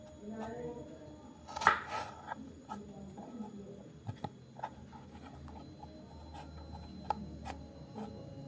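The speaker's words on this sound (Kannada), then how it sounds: "medium ಸೈಜಾಗಿ cut" Vegetables are cut into medium-size pieces on a board, giving a loose series of sharp knife chops with short pauses between them, close and fairly quiet.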